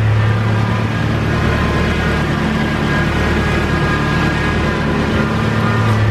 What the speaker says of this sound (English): Kind of a weird whining noise.